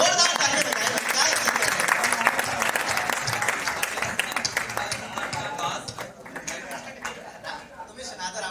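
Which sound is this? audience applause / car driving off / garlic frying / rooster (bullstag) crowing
audience applause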